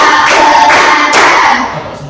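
A classroom of students clapping in counted rounds, a few sharp bursts of hand claps in quick succession mixed with a voice, loud and close.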